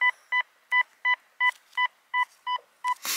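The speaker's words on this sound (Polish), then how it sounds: "Wykrywacz zasygnalizował go bardzo pewnie i taki dawał znak." A Golden Mask 1+ metal detector signals a buried alloy target with a steady series of about nine clipped electronic beeps in an even pulsing rhythm, loud and close, ending in a burst of noise.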